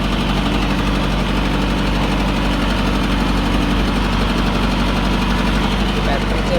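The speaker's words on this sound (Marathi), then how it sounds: "पुढे ट्रॅक्टर सफारी आहे, तर पुढे बसून चालू आहे." A tractor engine runs close by at a steady idle, a constant low, throbbing rumble with even mechanical knocking that never lets up.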